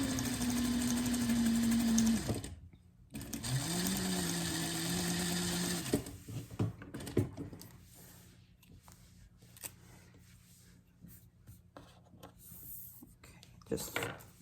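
A sewing machine stitches a frog plush in two loud steady bursts, the motor whirring continuously, then stops; quieter handling, snipping and rustling noises follow.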